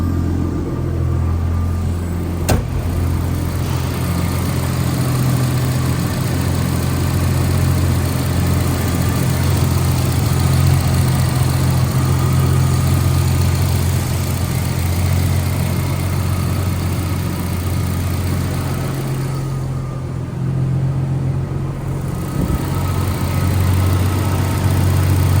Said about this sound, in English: And again, it idles totally steady.